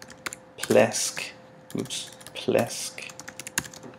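Computer keyboard keys clatter in quick bursts of typing while someone speaks between the keystrokes, close and clear against a quiet room with a faint steady hum.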